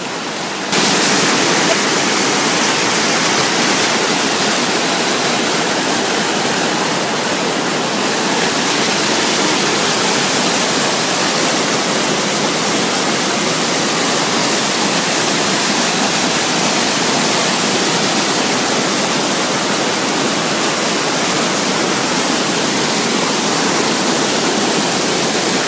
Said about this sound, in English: big giant rapids right above, so this should be fun.